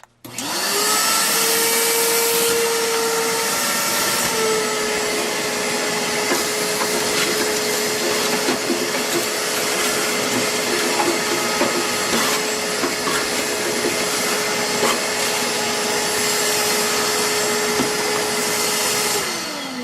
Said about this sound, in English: we're going to vacuum up down here.